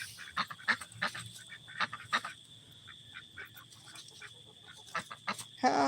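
Farm ducks honk and quack in scattered, irregular bursts, some close and some farther off, over a quiet outdoor background.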